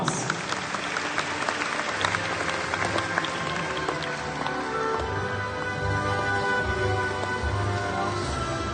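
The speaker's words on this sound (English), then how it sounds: "Once again, let us welcome her with a warm round of applause." A school audience at a graduation ceremony gives a warm, sustained round of applause, dense and steady clapping filling the hall for several seconds without a break.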